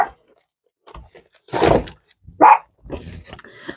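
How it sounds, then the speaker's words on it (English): A dog indoors gives a few short, separate barks, the loudest two close together midway, with quiet gaps and small thumps between them. "Marvelous barking and getting you all riled up, isn't he?"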